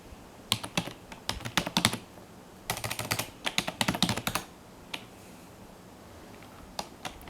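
Rapid bursts of typing on a computer keyboard, crisp close clicks in quick clusters broken by short pauses, thinning to a few isolated taps at the end, with no talking.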